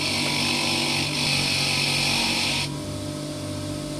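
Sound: bench grinder or belt sander shaping a key

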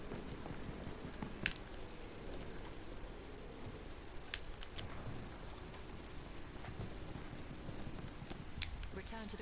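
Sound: horse hooves galloping in video game Battlefield 1

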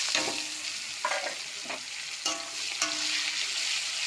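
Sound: onions and bay leaves frying in mustard oil

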